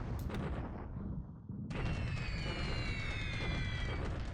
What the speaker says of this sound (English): Ah, there's the flak. It woke up.